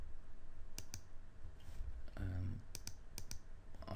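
A computer mouse clicks in a short series of sharp, close, distinct taps, some in quick pairs, over faint room hiss.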